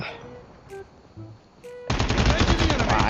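Call of Duty Mobile gunfire: after a quiet stretch with faint game sounds and brief voice fragments, a loud sustained burst of rapid automatic fire breaks in and continues to the end.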